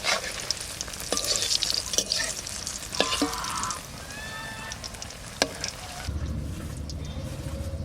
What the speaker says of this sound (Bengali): লাল লাল করে ভেজে নিলাম